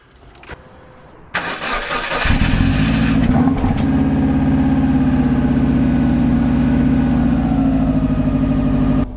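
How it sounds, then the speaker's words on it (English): A Subaru Impreza WRX flat-four engine cranks briefly on a cold start, catches, and settles into a steady, loud low idle that runs evenly to the end. "So it's a flat 4 Subaru engine."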